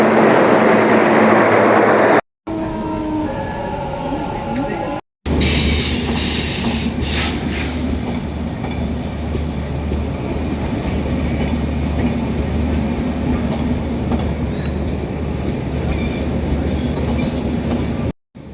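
A train rumbles steadily through a station, with a low continuous drone, rattling wheels and some high metallic screeching early on, close and loud throughout.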